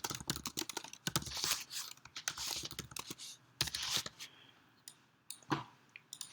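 Rapid clicking of typing on a computer keyboard while laying out pages in InDesign, close and fairly loud, coming in uneven bursts with short pauses between them.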